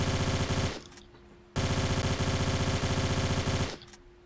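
Bursts of rapid automatic gunfire from Lara in Tomb Raider: Angel of Darkness, two long loud volleys with a short pause between, close and dense with no talk over them.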